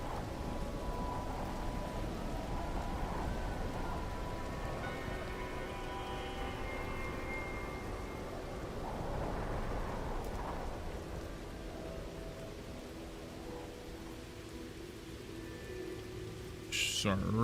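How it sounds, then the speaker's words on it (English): A rainstorm in a video game hisses steadily, with dense rain noise and a low rumble of thunder. A brief sharp sound comes near the end. "So hard to see with all the storm."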